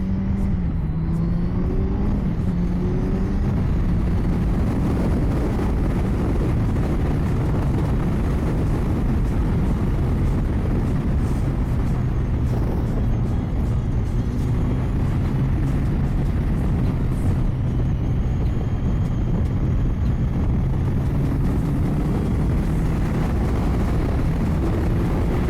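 A Kawasaki Z900 50th anniversary motorcycle is ridden and accelerated, its engine a loud continuous rumble under heavy wind noise, the pitch rising and falling with gear changes throughout.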